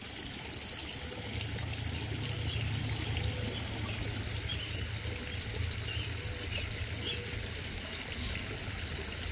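Water trickles steadily into a pond intake bay at low water level, siphoning in with a continuous close, even wash of splashing that runs unbroken throughout without talk.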